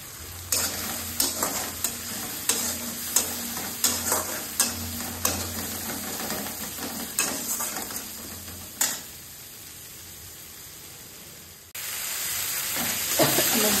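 Spices with turmeric being stirred and fried in a pan: repeated scraping strokes of a spoon against the pan over a steady close sizzle, with a brief pause and a louder sizzle near the end.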